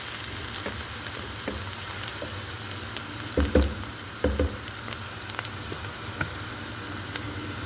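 Chopped onion frying in oil in a pan, a continuous close sizzle with scattered spoon knocks and a few louder clatters midway, no speech.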